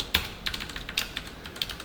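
Close, crisp clicks of a computer keyboard as code is typed, a quick irregular run of keystrokes with no talking.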